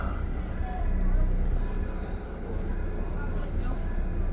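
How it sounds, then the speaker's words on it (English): An Ottawa O-Train on the Trillium Line (Line 2) rumbles in low and steady as it pulls into the station, a continuous mechanical drone with faint background noise. "O-Train pulling up."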